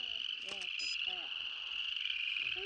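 Frogs croak outdoors at night on the Pine Ridge reservation in South Dakota, a few distinct calls repeating over a steady high insect-like trill, all fairly distant and soft.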